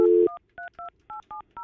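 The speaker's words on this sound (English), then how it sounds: "Now I'm calling the home phone." Touch-tone dialing on a phone calling a home landline, a short tone followed by a quick run of about seven crisp dual-tone beeps in an uneven rhythm, clear and close.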